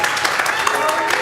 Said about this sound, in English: we're all going to start with a light round of applause